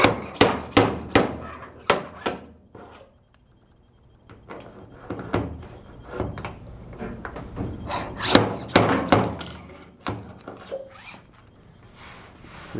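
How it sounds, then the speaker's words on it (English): Slide hammer pulling a dent in a Mustang trunk lid, with repeated sharp metallic impacts coming in quick clusters, close and loud, separated by brief pauses and some scraping. "I'm going to take the slide hammer attachment"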